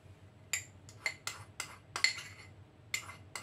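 Metal utensils clink and scrape against a bowl while tapioca flour and other ingredients are mixed for coconut pearls, about eight sharp, close strikes in an uneven rhythm over a quiet background with no voices.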